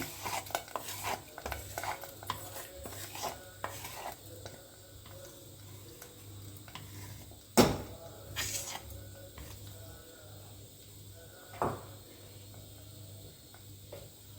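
Cooked lentils being stirred into a pot of huli, with soft scraping and sloshing strokes running steadily throughout, a few sharper knocks of the spoon against the pot standing out.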